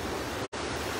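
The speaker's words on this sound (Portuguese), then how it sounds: "Olha aí que bonito que está aqui a sangria do gigante açude Araras." Water overflows the spillway of the giant Araras reservoir (Açude Paulo Sarasate) in a steady, loud, broadband rushing roar, broken only by a brief cut in the middle, with no talk.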